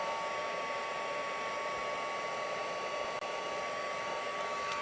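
A heat tool blows steadily on white embossing powder to melt it, a loud, even whooshing hiss of fan and heater running without pause from start to finish.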